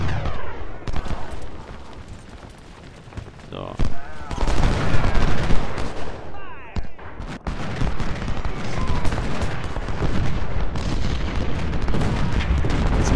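Musket volleys and artillery booms in the Civil War battle game Ultimate General: Civil War at Crampton's Gap. Dense crackling rifle fire and heavy cannon thuds sound loud and continuous, with a voice talking now and then.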